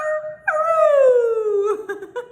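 A human voice imitates a dog or wolf howl, a loud, close, sustained wavering note that slides downward, followed by short broken yips.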